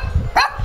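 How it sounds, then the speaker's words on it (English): A dog at an animal rescue in Udaipur, India, gives a single short bark with a rising whine-like tone, close and fairly loud, amid low background noise. "what are you barking?"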